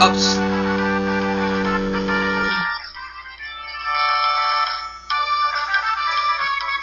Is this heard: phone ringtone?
yes